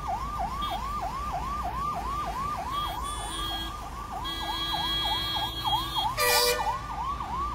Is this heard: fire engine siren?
yes